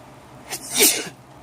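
A single sharp sneeze, close and fairly loud, with a brief intake before the burst and a quiet background otherwise.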